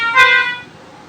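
Horn voice on a BIGFUN BF 630A1 61-key electronic keyboard, a single bright brassy tone, loud and close, fading out over about half a second.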